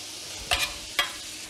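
Lardons fry in a pan, a faint steady sizzle punctuated by two quick scraping stirs about half a second apart.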